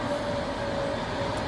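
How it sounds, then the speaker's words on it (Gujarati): A train arriving from Ahmedabad rolls past as a steady, close rumble of carriages with a faint tonal hum throughout and no talking. "ફાઇનલી ફેમિલી જો ટ્રેન આવી ગઈ છે."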